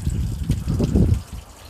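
Water gushing and splashing out of the front of an R33 Nissan Skyline GTR, rusty with iron oxide, as the engine runs again after six years of sitting; a steady close wash of liquid that builds, then eases off.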